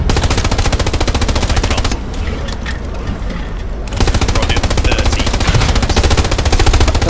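Machine gun fire in the WWII shooter Hell Let Loose, a loud rapid stream of gunshots that runs steadily, drops back to quieter distant shots for a couple of seconds, then resumes at full intensity.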